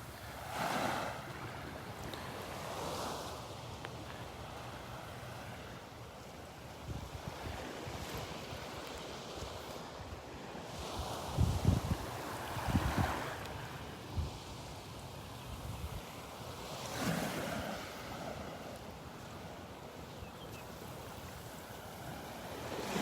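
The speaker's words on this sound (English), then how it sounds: "Feels like the wind has died down a little bit." Wind and ocean surf on a beach in North Naples, Florida, with waves breaking in recurring swells and steady wind noise buffeting the microphone throughout.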